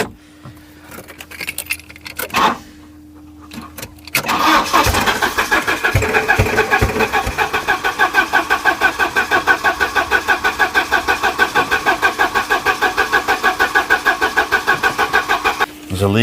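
A scrapyard Volvo 740 on a jump boost, suspected of a stuck injector, is first quiet apart from a jingle of keys. Then its engine cranks with a rapid rhythmic churn for several seconds, loud and close, and briefly catches at the end.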